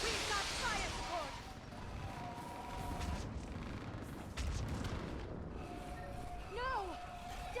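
Booming artillery explosions of fire support crash through a Mass Effect 3 battlefield, dense rumbling blasts layered with whistling, swooping tones and chaotic combat noise, with shouting voices mixed in throughout.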